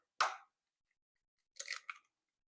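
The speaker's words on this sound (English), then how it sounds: "I'm going to crack my egg" An egg being cracked while making holiday eggnog: one sharp close crack, then after a pause a short crunchy cluster of shell breaking and pulling apart, in a quiet room.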